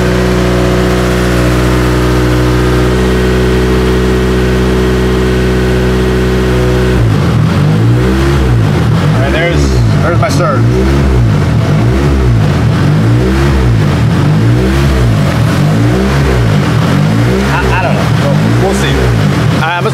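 A car engine idles steadily, then revs repeatedly in loud, rhythmic surges for the remainder, close to the listener.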